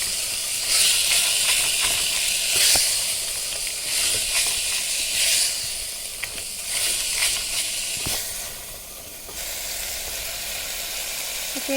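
Kidney beans fry in a pan with onion, coconut and ginger-garlic-chili paste, giving a loud, continuous sizzle and hiss that swells and eases as the mixture is moved, with occasional scrapes.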